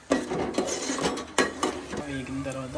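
Tomato pieces are stirred in a frying pan, with sharp metallic scrapes and clinks of a utensil against the pan at an uneven rhythm over a soft sizzle, close and moderately loud.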